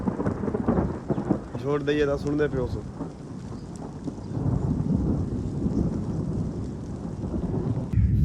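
Heavy rain pours steadily during a storm, with dull rumbling thunder underneath and someone talking over it near the start.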